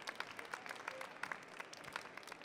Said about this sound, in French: On peut les applaudir effectivement encore une fois.